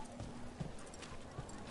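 Donkey hooves clip-clop in Dragon Age The Veilguard, a few soft uneven hoof knocks spaced across the moment, faint and in the background beneath ambient game sound.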